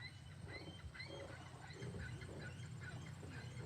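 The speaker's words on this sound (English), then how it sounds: "I don't know if you guys can hear the birds." Scattered bird chirps and calls outdoors over a steady low rumble of background noise, fairly faint and continuous.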